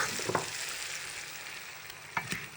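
Omelette batter sizzles steadily in a hot pan, a continuous close frying hiss with a couple of brief louder spatters and stirring clicks.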